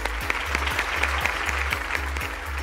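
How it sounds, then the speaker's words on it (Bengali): A studio crowd at a reality show's grand finale keeps up sustained, close applause, a dense rattle of many hands clapping steadily throughout without speech. "এবারে মিডিয়াকমের জন্য একটা জোরে করতালি হবে"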